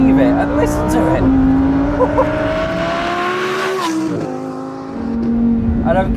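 Naturally aspirated V10 of a Lamborghini Huracan EVO RWD supercar revs loud and close, pitch climbing and falling through several surges over a few seconds, with a brief dip before rising again.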